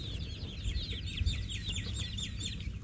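Hens clucking repeatedly in a rural farmyard where chicks are being hatched, with steady overlapping calls over low background rumble and no talk.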